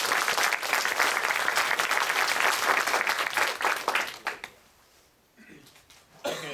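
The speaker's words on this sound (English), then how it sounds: "I'd like to have you all help me in giving them a special round of applause for doing such great work" A game development class audience gives a round of applause for its art team, a loud dense clapping crowd that fades out after four seconds, followed by quiet room noise and a voice starting to speak.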